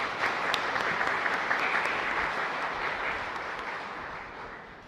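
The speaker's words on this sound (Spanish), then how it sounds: "a todos ustedes un fuerte aplauso por ser" A church congregation applauds during a live Mass at a parish in Asunción, a dense, steady crowd clapping that carries on for several seconds and slowly fades toward the end.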